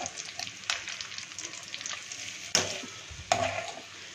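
Kebab fries crisply in a pan with a soft, steady sizzle and a few sharp clicks of a utensil, faint and close, with no talk.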